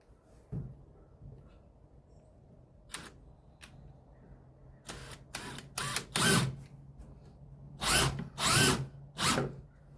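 A power drill drives screws into a wooden box in several short whirring bursts, separated by quiet pauses and growing longer and louder toward the end.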